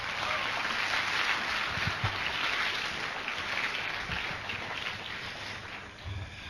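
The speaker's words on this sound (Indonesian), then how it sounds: "Tepuk tangan untuk Anda semua." Audience applause at a seminar in Indonesia, a broad, continuous roar of clapping that fills the room at a fairly loud, even level and thins slightly near the end.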